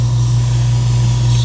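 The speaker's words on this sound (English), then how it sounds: "spray over that red clear over the black base that had the holomatic spectral chrome" Spray gun spraying red clear coat paint over a black base, a loud, continuous airy hiss with a steady low hum underneath, close and unbroken throughout.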